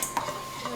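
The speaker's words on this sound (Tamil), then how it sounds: "இந்த மாதிரி கோதுமை மாவை நல்லா கரைச்சி எடுத்து வச்சுக்கலாம்." A spoon stirs wheat flour into about 200 ml of water in a vessel, making a few light clinks and soft swishing scrapes, fairly close and quiet.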